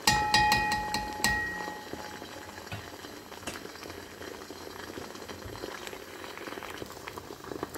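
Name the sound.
meat frying in a pan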